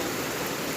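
Steady rain falls outdoors at a banana plantation, a dense, even hiss with no breaks and no voices.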